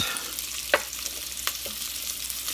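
Kielbasa sausage browns in a pan with a steady, bright, close sizzle and crackle, broken by a few louder pops and a faint scrape, with no talking.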